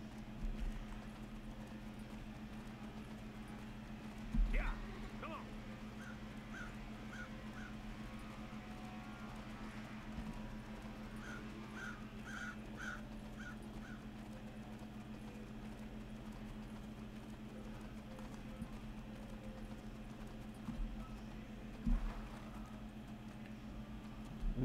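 A horse in a Wild West cowboy shooting video game clip-clopping along in a steady rhythm over a constant low hum, with a few sharper thumps and faint background game sounds.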